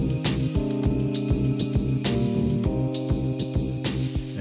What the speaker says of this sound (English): So you can hear the reverb coming in right now.